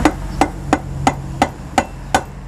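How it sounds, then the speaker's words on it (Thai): Seven evenly spaced, dull thuds of a rubber mallet striking an electric bicycle hub motor during wheel repair, each a short knock with a soft ring, steady rhythm, close by with no talking. "ใช้เป็นค้อนยางนะคะ"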